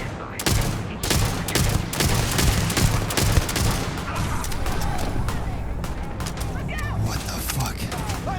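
Rapid bursts of gunfire crackle through a Starfield firefight, dense overlapping shots over a steady rumbling din, with voices shouting in the background throughout.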